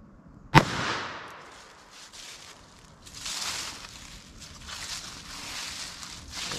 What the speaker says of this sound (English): 22 magnum through our denim and our MDF